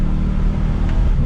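A Chevrolet C8 Corvette V8 in Zora mode pulls away smoothly from a stop sign, a low, steady engine rumble heard from inside the car, even and unhurried with no sharp revving.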